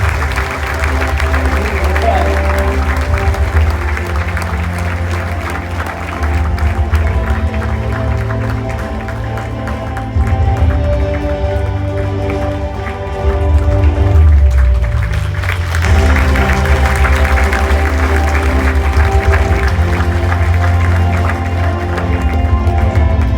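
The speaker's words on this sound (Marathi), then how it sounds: "जोरदार टाळ्या झाल्या पाहिजेत" Loud, sustained applause from a large crowd at a wildlife and environmental conservation award ceremony, continuous dense clapping with background music and murmur, briefly swelling midway.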